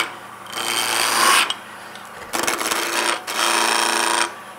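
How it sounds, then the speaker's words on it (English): Skew chisel cutting across the grain of a square wooden stool leg spinning between centres on a lathe, giving three loud bursts of high hissing, rasping cut noise with short quieter gaps of motor hum between them. "we do that with the use of the skew chisel. We want to be able to cut across the grain now."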